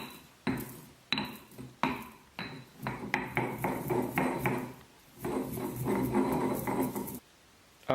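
Chia seeds are ground by hand for kale chips, heard as close scraping and rubbing bursts with sharp knocks against a bowl, in irregular strokes.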